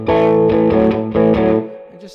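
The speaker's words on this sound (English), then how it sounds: "It just adds a little more distortion to your amp and a little more growl." A Fender Classic Vibe Stratocaster with EMG SA pickups and an Afterburner gain boost plays a short distorted riff through an amp, loud and close, with chords ringing out and then fading.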